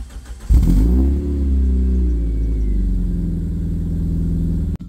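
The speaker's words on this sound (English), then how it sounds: "let's go ahead and start the car up" A car fitted with aftermarket headers cold-starts with a brief crank, then settles into a loud, steady, low idle that holds close and unbroken for several seconds before cutting off abruptly.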